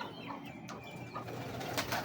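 A big breeder pigeon coos softly and briefly, close by, against faint background noise.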